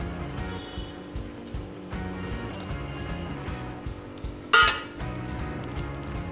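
Spices are mixed into mashed potato for cutlets with a spoon that scrapes and taps against a bowl in a steady rhythm, closing with one sharper clink. The sounds are close and moderately loud.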